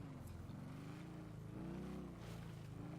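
A steady motorcycle engine drone in GTA 5 Online, likely a three-wheeled chopper, with a low harmonic hum, rising slightly in pitch midway before settling, continuous and fairly close.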